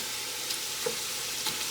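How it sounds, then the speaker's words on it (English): Food in a single layer sizzles and fries steadily in a pan for a Mardi Gras dish, a constant close hiss with a few small pops. "The sizzling is going down just a little bit"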